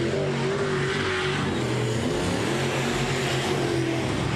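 Modified race cars roaring around the I-37 Speedway turns in a dense, continuous engine drone, throttle feathered with slight pitch wavering, loud and unbroken through the whole stretch.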